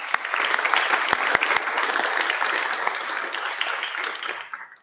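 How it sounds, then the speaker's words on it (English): Sustained audience applause at a national awards ceremony, honoring the event's sponsors; dense, steady clapping from a sizable crowd that holds for several seconds before tapering off at the end. "Could you please join me in giving our 2023 Next Gen sponsors a massive round of applause?"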